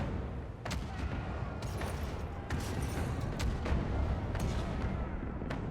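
Ship cannons fire in a naval battle in Pillars of Eternity 2: Deadfire, a dense rumbling barrage of repeated booms over continuous low background noise, with several sharper blasts standing out.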